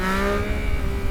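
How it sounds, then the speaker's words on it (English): A motorcycle engine revs loudly and steadily up close, a throaty aftermarket exhaust drone with no talking. "the previous owner has installed this new exhaust, which sounds pretty good"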